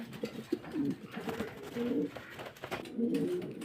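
Pigeons on a breeding farm coo softly and repeatedly in low, rolling phrases, faint and close, against a steady background hum.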